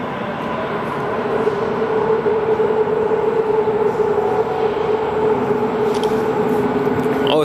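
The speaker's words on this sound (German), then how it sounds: "Ausfahrt von zwei DT1er Einheiten" Two Nuremberg U-Bahn DT1 units pulling out of Lorenzkirche station, a steady rumbling drone with a sustained motor whine, loud and close throughout.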